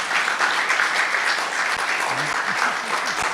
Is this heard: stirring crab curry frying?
no